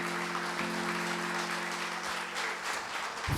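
A church congregation claps steadily in worship for several seconds, a dense, continuous patter of many hands with a held keyboard or organ tone humming underneath.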